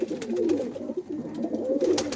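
A pigeon with a full, soft-feathered body and showy tail, held in the hand, gives low cooing calls that repeat close by without a break, with no talking over them.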